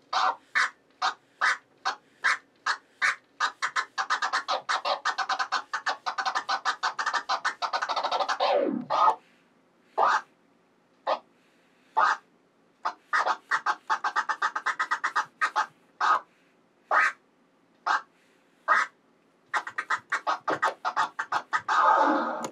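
Rapid rhythmic record scratches on a turntable, short choppy cuts repeated in quick bursts with brief gaps, loud and up close with no talking.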